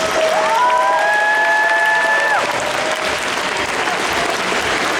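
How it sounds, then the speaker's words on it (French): An audience at a cosplay jury presentation applauds loudly and steadily with scattered cheers. A whistle-like tone rises and fades early on. "on applaudit un chouille plus fort que ça"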